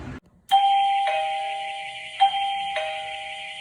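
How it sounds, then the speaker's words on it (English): An electronic doorbell chime sounds twice in a roughly 13,000 square foot warehouse, each ding-dong tone ringing out clearly and sustaining in the large, otherwise quiet space. "One is the doorbell that's in the shipping room,"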